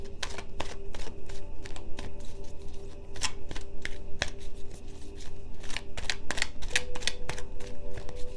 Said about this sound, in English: just going to bear with me with the shuffling